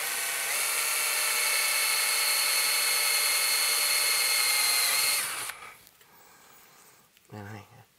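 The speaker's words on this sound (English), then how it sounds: "this is much easier material to drill through, even as thick as it is" A power drill whines steadily and loudly as it bores through a thick metal chassis for a 1930s Globe tube amp, then stops abruptly, followed by a brief clatter.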